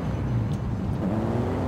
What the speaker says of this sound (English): I'm trying to see what this turbo car can do